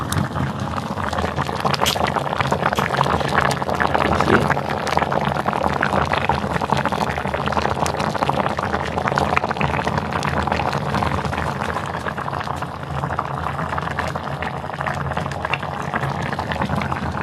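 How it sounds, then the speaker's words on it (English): Rice, black beans and spam cook in a rice steamer, giving a continuous bubbling, boiling rush that runs close and fairly loud throughout, without talk. "I got rice, black beans, and spam. Cooking away in my rice steamer."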